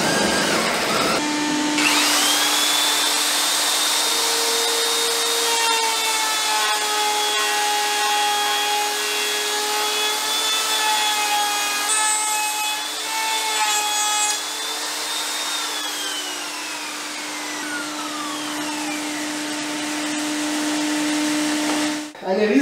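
A power router whines steadily at a high pitch while milling out wood for a desk, its tone dipping and rising under load, continuous and loud for the whole stretch.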